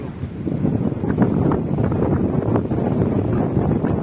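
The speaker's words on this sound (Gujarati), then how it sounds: "કેવો પવન આવે. આપણે બોલવી સંભળાતું નહીં હોય. પવનનો અવાજ આવતો હશે." Steady, heavy wind buffets the microphone, producing a continuous low roaring rumble with gusty swells and no voices.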